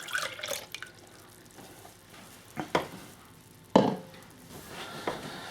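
Beef jerky marinade being stirred in a bowl: soft, continuous wet swishing with a few sharper clinks or splashes spaced a second or so apart, close and moderately loud, with no voices.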